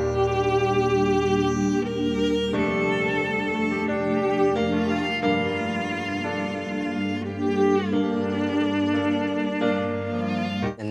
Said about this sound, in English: Together, the pad, violin, piano sounds like this.